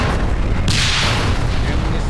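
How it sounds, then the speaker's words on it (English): Tank guns fire in an ambush battle, giving a loud, heavy boom that rings out and then fades into a low rumble. "They tried to fire several shots, but listen, the ambush was lethal."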